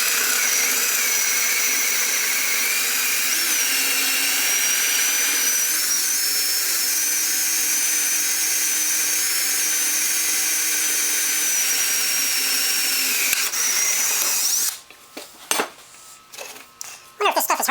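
A power drill with a dull bit bores into metal while a spare tire rack is built for a boat trailer. A steady, high-pitched whine runs for about fourteen seconds, then cuts off into scattered clattering handling noises.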